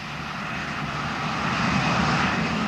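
Boeing 747 jet airliner in flight, a steady broad roar of engines and rushing air that swells slightly, heard continuously without voices.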